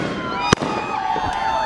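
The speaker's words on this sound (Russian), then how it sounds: "Это фейерверк?" Fireworks go off nearby, a sharp loud bang followed by whistling, crackling trails and a fainter second pop, with excited voices mixed in.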